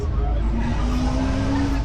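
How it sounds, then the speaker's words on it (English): A 1970 Corvette C3 with a 454 V8 rolls past at a car show night, its deep engine rumble steady and fairly close across the short moment, with crowd murmur in the background. "And here comes a 454 C3. 1970, the year to have."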